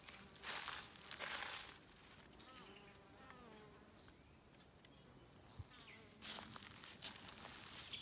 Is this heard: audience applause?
no